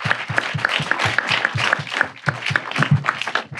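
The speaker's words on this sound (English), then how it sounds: "So give them a big round of applause." An audience applauds at a talk about Wisconsin lakes turning green, the clapping coming in a steady, evenly paced rhythm of sharp claps, moderately loud and close.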